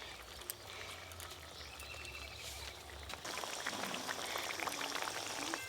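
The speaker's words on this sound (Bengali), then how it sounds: "এই গ্রেভিটা আর একটু ভালো করে ফুটিয়ে কমিয়ে নেব" Prawn malai curry gravy bubbling and reducing in a pan, a steady close simmering hiss with fine popping that grows busier and louder partway through.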